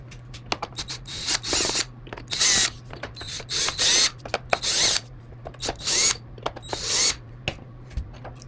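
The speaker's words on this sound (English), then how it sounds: "you got to take off these little screws right here for the bumper" Small bumper screws being backed out of a WYZE robot vacuum with a power screwdriver, a string of short close whirring bursts separated by brief pauses and light clicks.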